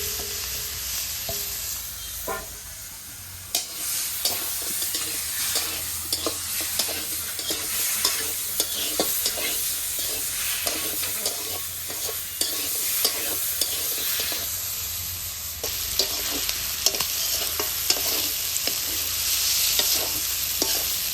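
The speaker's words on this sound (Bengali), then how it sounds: "এখন এই যে ম্যারিনেট করা মাংস দিয়ে দেবো।" Marinated goat meat frying in a wok with no added oil, cooking in its own fat: a loud, steady sizzle broken by frequent scraping stirs throughout, with no talking.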